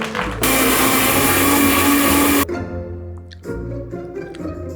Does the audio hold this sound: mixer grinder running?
yes